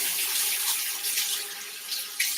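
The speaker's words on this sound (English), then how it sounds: "Let's wash my hands." Tap water runs steadily into a sink as hands are washed in a home kitchen, a continuous close hiss with small splashing changes and no talk.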